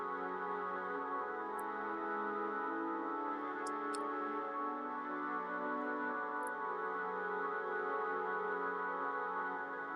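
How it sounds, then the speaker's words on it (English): Sustained synth pad from an Ableton voice box instrument playing chords in a techno track, a steady, organ-like, choir-like layered tone held evenly throughout, quiet and with no talking. "Then there's another pad channel, which I'm using one of the Ableton voice box instruments."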